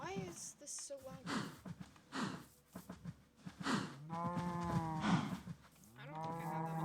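Cows in the Minecraft video game moo repeatedly in loud, drawn-out calls that overlap one another, with a person talking over and between them.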